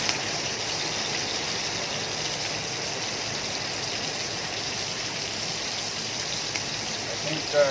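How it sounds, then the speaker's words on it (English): Rain falls steadily in Cagayan, Philippines during the rainy season, a continuous even hiss with a faint watery rush throughout and no clear voices. "Really starting to rain here in this Cagayan, Philippines."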